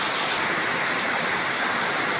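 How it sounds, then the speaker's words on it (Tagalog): Heavy morning rain in a rural province, a loud steady wash of dense falling water with no breaks, close and enveloping. "Ang lakas ng ulan ngayong umaga sa aming probinsya."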